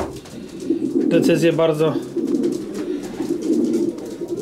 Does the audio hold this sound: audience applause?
no